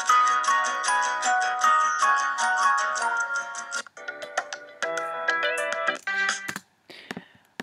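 A short, bright music clip made as an iPhone ringtone, with quick plucked, chime-like notes in a steady rhythm, loud and close, that pause, restart, and cut off into sparse taps at the end.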